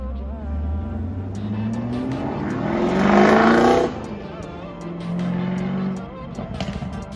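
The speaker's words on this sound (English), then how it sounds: "going with the ZL1 to get some gas, so we'll probably hear him stepping on the gas a little bit." A Chevrolet Camaro ZL1 drives off with a rising engine note. It climbs to a loud peak as it accelerates hard, then eases back as the car moves away.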